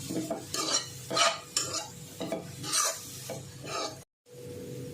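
Carrots for carrot halwa are stirred and sautéed in a pan, giving a close, steady run of scraping and clinking from the spoon against the pan with a soft sizzle underneath, with a brief gap near the end.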